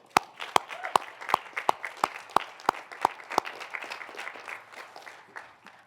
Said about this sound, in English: I'd like the students to give a round of applause to all of your supporters, your family members, for everything they've done to support you